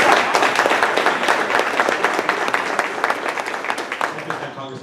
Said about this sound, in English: Can I give Joe a round of applause?